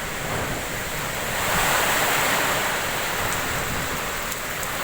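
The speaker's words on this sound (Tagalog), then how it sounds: "Ada ang hangin." Steady, loud rushing typhoon wind with broadband roar that swells slightly midway, like gusts buffeting the microphone outdoors.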